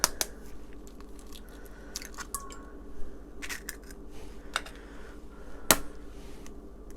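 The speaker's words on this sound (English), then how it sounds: "Into a bowl, we are going to crack our 3 eggs" Eggs cracked into a bowl in a kitchen, a few sharp small taps and cracks spread across the moment with faint wet drips in between, quiet and close.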